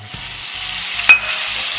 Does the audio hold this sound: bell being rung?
no